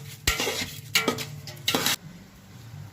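A spoon scrapes and stirs salted rice in a pot for dum biryani in three distinct strokes, with a soft sizzle underneath.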